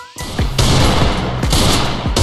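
Rapid gunfire in the mobile shooter Free Fire, a loud, dense burst of repeated shots with sharp cracks and booming echoes throughout.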